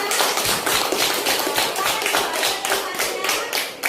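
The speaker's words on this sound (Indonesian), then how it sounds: "Tepuk tangannya mana?" A classroom of students claps for a group that has just finished its presentation, a dense, steady patter of many hands that stays loud and unbroken for the whole stretch.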